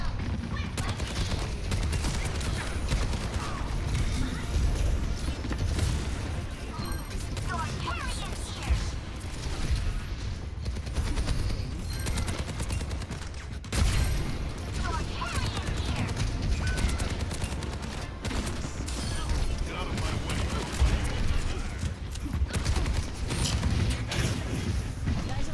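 Rapid, sustained gunfire fills the hero shooter Overwatch 2 with dense bursts of shots, clatters and impacts. It runs loud and almost unbroken throughout, layered with other busy match sounds.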